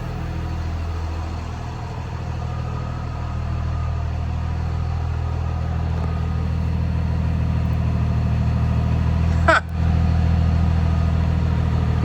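A high-horsepower car engine running steadily on a chassis dyno, a loud, sustained low drone that holds and swells slightly, with a brief sharp burst near the end.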